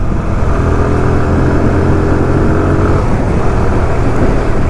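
A TVS Apache RTR 160 2V motorcycle revs loudly up close, its engine note climbing and holding with a rough, buzzing drone before easing slightly near the end; no speech.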